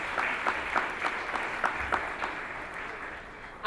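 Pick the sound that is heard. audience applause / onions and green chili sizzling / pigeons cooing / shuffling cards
audience applause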